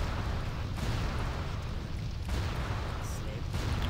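Dense, continuous roar of gunfire and blasts in World of Warcraft, loud and sustained, with surges that sound like explosions in a busy game battle.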